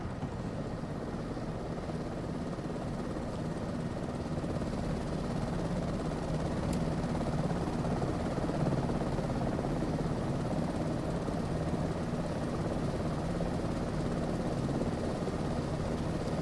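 A helicopter in Microsoft Flight Simulator 2024 cruises on a ski trip near Whistler and Vancouver, its rotor and turbine giving a constant loud, even drone with no talk over it.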